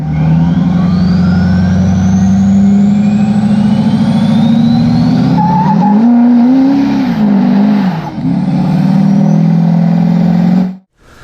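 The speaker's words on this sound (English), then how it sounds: "That's my rockin' HSP Diesel compound turbo kit with another Valley turbocharger from Ryan's Diesel Service." Diesel truck fitted with an HSP Diesel compound turbo kit and Valley turbocharger, revving loudly with a rising turbo whistle over a deep engine roar, then surging up and down before cutting off near the end.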